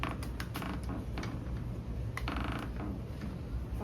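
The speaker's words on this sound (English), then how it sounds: "Those doors look like they'll open." An old door in a former Civil War hospital building in New Orleans creaks as it swings open, a steady grinding creak running the whole length against a noisy room background.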